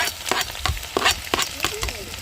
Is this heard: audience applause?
no